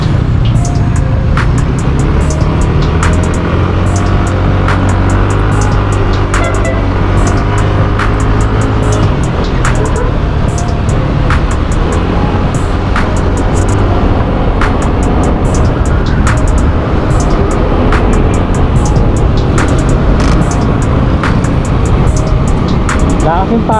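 Steady road traffic noise and wind rush around a rider on a Yamaha NMAX scooter in Malolos, with vehicles passing close by throughout, loud and continuous, while someone talks over it at times.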